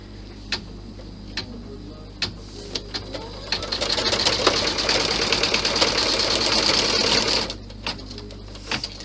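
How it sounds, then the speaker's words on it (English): An embroidery machine stitches a placement guide onto a bag, sparse clicks at first, then a steady fast rattling run for several seconds that stops, followed by a few more isolated ticks. "push the hoop back in and let it stitch out the guide for me"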